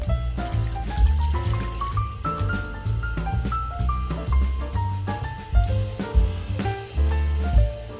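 Water is poured into a pot of spicy meat stew before doenjang and seasonings go in. It makes a continuous trickling fill whose resonant pitch rises steadily as the pot fills, over a steady low background.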